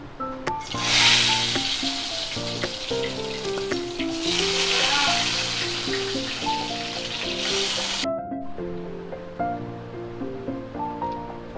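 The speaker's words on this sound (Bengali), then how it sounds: "এই দেখুন তেলটা পুরো গরম হয়ে গেছে এবার বেগুনগুলো আমি ভেজে নিচ্ছি" Eggplant slices frying in hot oil give a loud, close, steady crackling sizzle that swells and eases, with a short sharp drop near the end, and no talking.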